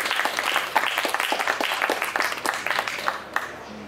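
Audience applause at a Slovenian book fair literary contest event, a steady wash of many hands clapping close by for about four seconds with a few sharper individual claps standing out.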